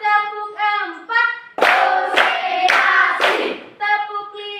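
Hands clap in sharp bursts during a classroom clap chant, with groups of claps punctuating a chanting voice that sings between them.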